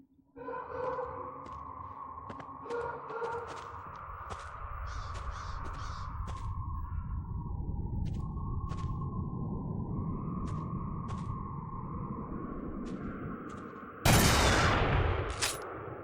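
Scattered gunshots in the PS2 first-person shooter Black, sharp cracks spread over a sustained droning game soundscape, ending in a loud burst of noise near the end.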